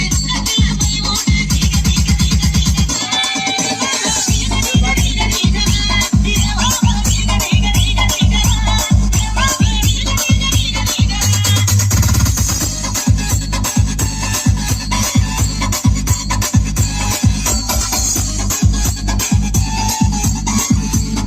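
Loud music plays through a car audio system in an Ashok Leyland Dost, using Sony XS-FB6930 speakers and an 8-inch Haxxorrr subwoofer. A steady, pounding bass beat runs throughout under a dense, bright mix.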